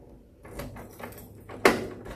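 A few soft mechanical shuffles, then a single sharp clunk as the door lock of a 1972 Chevrolet Nova snaps into place, near and brief.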